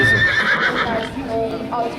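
A horse whinnies loudly and close in a quavering neigh, with faint hoof clip-clop under a voice talking over it.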